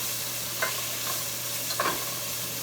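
Onion sautéing in a pan, a steady hiss of frying with a couple of brief stirring scrapes, moderately close, no voices.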